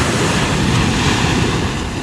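Ocean waves wash steadily ashore in Aruba during a tropical storm, a continuous broadband roar of surf with wind buffeting the microphone throughout.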